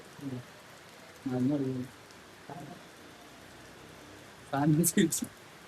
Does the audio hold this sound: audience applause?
no